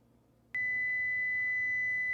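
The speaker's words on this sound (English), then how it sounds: "So, that's the timer." A kitchen timer beeps while banana bread bakes: a brief quiet, then a loud, steady high-pitched tone comes in sharply and holds without a break to the end.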